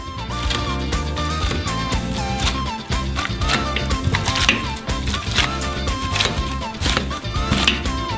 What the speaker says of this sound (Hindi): और आलू मैशर की मदद से आलू को गूंद ले।